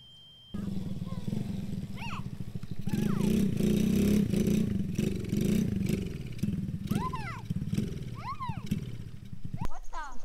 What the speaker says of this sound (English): My four-wheeler! So that thing's out of fuel